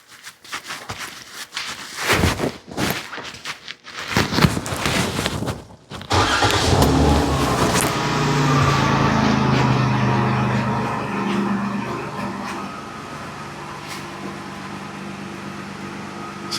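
2013 Ram with a 3.6 engine during a coolant three-way valve test: a few clunks and footsteps up close, then the engine cranks and starts, settling into a steady idle that runs on.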